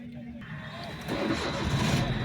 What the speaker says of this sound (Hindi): ये गाड़ी स्टार्ट कर दिया हमने